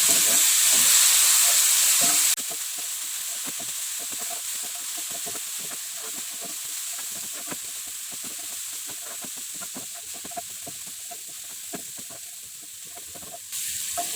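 A ground spice paste and bruised lemongrass stir-fry in a pan. A loud steamy hiss opens the sound, then it settles into a quieter, steady sizzle with scattered crackles and stirring. No one speaks.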